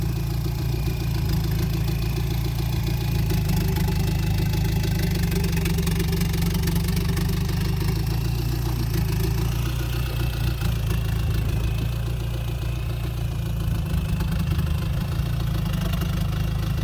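Turbocharged E-taen farm vehicle engine with a four-wheel-drive setup and a short, unfinished exhaust pipe, idling in a steady, continuous rumble with a faint turbo whine. The sound is loud and close, with no talk.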